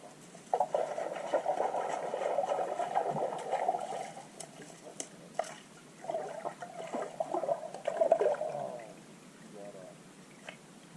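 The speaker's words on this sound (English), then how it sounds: "Yes, that's the sound of my KVD Bitsy minnow getting attacked by the bass all the" Underwater recording in a private pond of bass striking a KVD Bitsy minnow lure, giving faint, muffled gurgling and splashy thumps in irregular bursts with brief clicks over a quiet watery background.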